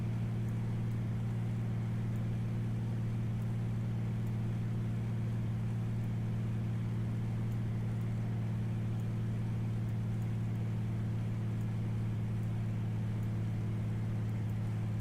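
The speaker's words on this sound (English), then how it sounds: "Now we heard the engines change." Aircraft engines droning steadily during descent, a loud continuous low hum with strong tonal bands that holds constant throughout, with no talking.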